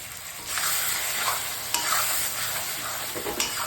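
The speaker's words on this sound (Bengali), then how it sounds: "আর এটা সর্ষে বাটা, জিরে বাটা, আদা বাটা, টমেটো আর ধনে পাতা বেটে, কাঁচা লঙ্কা বেটে মশলাটা কষাচ্ছি।" A spice paste of ground mustard, cumin, ginger, tomato, coriander leaves and green chili fries in a pan for a taro and fish curry. A steady close sizzle runs throughout, with scraping stirs breaking through now and then.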